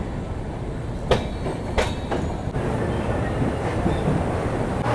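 The 13173 Kanchanjungha Express runs along the rails between Kolkata and Agartala, a steady rumble with a few sharp wheel clacks that stand out over continuous broadband train noise, heard close from inside the carriage.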